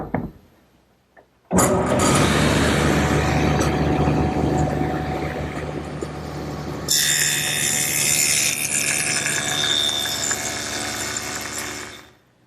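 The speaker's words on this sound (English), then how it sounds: "I've got the table saw all set up with the dado head, and I'll make that top rabbet first" A table saw with a dado head cuts a rabbet in wood, spinning up with a sudden roar, holding a loud steady drone with a harsher bite partway through the cut, then cutting off abruptly.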